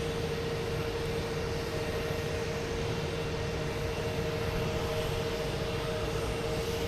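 A steady, continuous engine drone from aircraft at Logan Airport, with a Cape Air small passenger plane coming in to land; the drone stays even and fairly loud with no talk.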